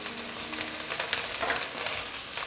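Green chilli and coriander sizzling in hot oil while murmura chivda is being made, a steady, close crackling fry with no voices.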